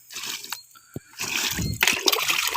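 Water splashes and sloshes over paddy straw mushroom beds, wetting the ground around them, in a few loud, close bursts with short gaps between.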